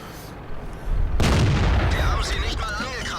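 Tank cannon shots in World of Tanks fired at a Churchill by the SP I C, a German tier 7 light tank: a quiet start, then a sudden loud heavy boom at about the one-second mark, followed by a rumbling battle tail with faint game effects.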